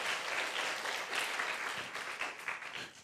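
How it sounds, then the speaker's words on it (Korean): A congregation at an evening church summer camp service breaks into applause, a steady, fairly quiet wash of many hands clapping throughout. "자, 박수."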